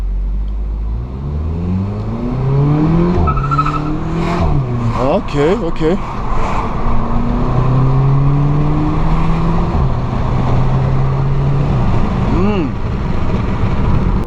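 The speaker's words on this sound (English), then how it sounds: "I'm sure I'm probably going to get a bit of wheel spin because it is front wheel drive" A front-wheel-drive Volkswagen Polo GTI hatchback engine revs hard and climbs through first and second gears with rising pitch, tyres briefly scrabbling for grip, while a person speaks briefly over it.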